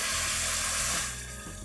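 Cold water poured into a pan of browned chicken for a French chicken stew (fricassee), a steady broad rushing pour that runs loud for about a second, then tapers to a softer trickle and sizzle.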